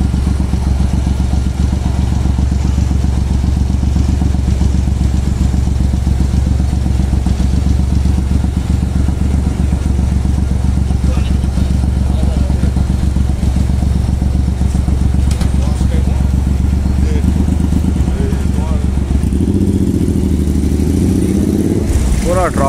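Night traffic on a Dubai city road in a jam: a constant low rumble of idling car and motorbike engines close by, with a louder engine surging near the end.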